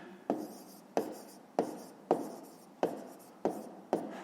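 Pen strokes on paper while writing a number during a fifth-grade math exercise: seven short scratchy bursts at a steady rhythm, close and fairly quiet, with no voices.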